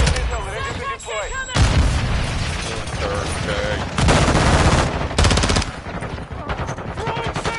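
Gunfire and explosions in Modern Warfare 2: rapid machine-gun bursts, heavy booms and mechanical clatter blend into a dense, loud battle mix, with voice chatter in places.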